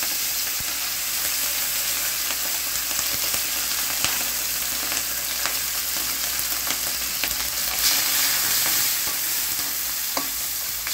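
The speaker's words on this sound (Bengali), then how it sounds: "চিংড়ি মাছটা আগে ভেজে নেবো" Shrimp frying in oil in a home kitchen pan, a steady loud crackling sizzle lasting throughout with occasional sharp pops and utensil scrapes, close up and with no one talking.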